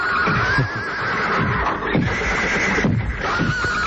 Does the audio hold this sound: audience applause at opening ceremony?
no